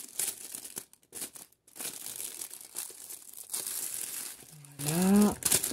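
Plastic shipping bag for an online clothing order being torn open, with crinkling and rustling across the clip, faint scraping between, and a louder tearing burst near the end.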